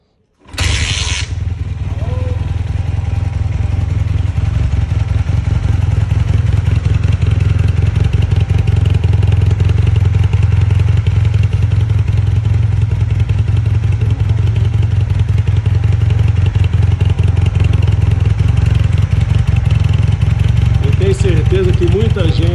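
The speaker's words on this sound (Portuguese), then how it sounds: "Certeza que muita gente vai ter muita lembrança boa desse barulho, desse escapamento original." A Honda CB motorcycle with its original exhaust starts up and runs steadily at idle, a loud close rumbling throb that holds evenly, with a brief voice toward the end.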